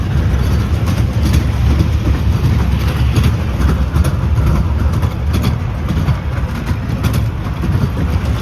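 A train rolls along its rails during a family outing to a fair. A steady, loud, low rumble runs throughout with faint rhythmic knocks, and no one speaks.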